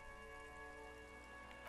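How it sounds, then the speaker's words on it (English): Steady rain falling over the city of Revachol in the video game Disco Elysium, a faint continuous hiss with a soft tonal drone underneath, no voices. "All around you, rain falls on the great city of Revachol."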